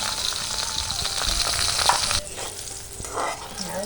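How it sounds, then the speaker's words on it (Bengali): Okra fries in a pan with a loud, dense sizzle and stirring scrapes that ease into a softer hiss partway through, heard up close without speech. "ঢ্যাঁড়স ভাজা হয়ে গেছে।"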